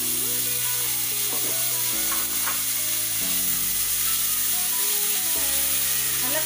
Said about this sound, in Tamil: நெக்ஸ்ட் இஞ்சி பூண்டு பேஸ்ட்டு சேர்க்குறேன்